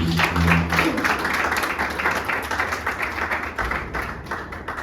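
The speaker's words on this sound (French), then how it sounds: "On peut encore l'applaudir encore une fois." An audience applauds at the closing of a master class, with dense, sustained clapping from a crowd in a hall that gradually thins toward the end.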